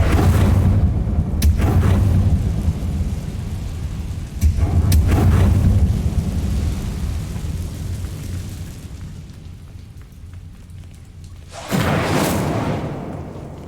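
An Incendio fire spell is cast in Hogwarts Legacy, producing several loud whooshing bursts and booming flame blasts at intervals over a low rumbling game ambience.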